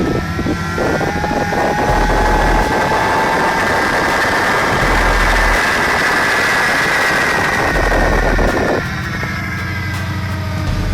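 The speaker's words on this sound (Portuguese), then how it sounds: "Quando o motor a diesel de uma locomotiva queima os gases de exaustão" A diesel locomotive engine runs loud and close in a continuous heavy rumble, with a whining tone rising and falling over the drone and a few low thumps along the way.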